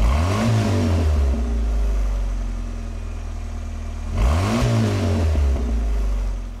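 A 1984 Pontiac Fiero Indy 500 Pace Car's 2.5 liter four-cylinder engine revs up twice from idle, each rise and fall loud and close, with a steady idle between the blips.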